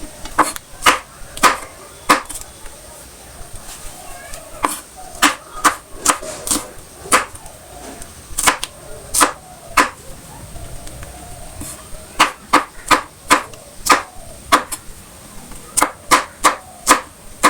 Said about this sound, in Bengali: কুচি কুচি করে কাটতে হবে।